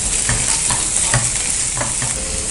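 A spatula stirs spring onion through hot oil in a pan for gobi manchurian, a steady loud sizzle with soft scraping strokes repeating at a regular rhythm and no talking.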